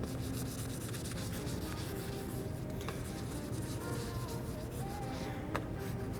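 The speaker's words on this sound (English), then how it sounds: "So that's the importance of sanding your cup." Sandpaper rubs steadily over a tumbler cup being prepared for epoxy, a close, continuous scratchy abrasion with a few light taps along the way.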